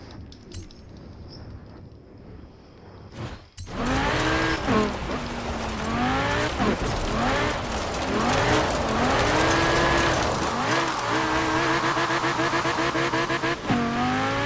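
A custom-built Aston Martin drift car skidding in Forza Horizon 4: a quiet opening, then a sudden loud burst of engine revving with shifting pitch and tire squeal, sustained and close throughout.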